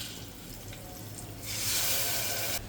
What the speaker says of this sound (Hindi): अभी मसाले में थोड़े सा पानी मिला लूँगा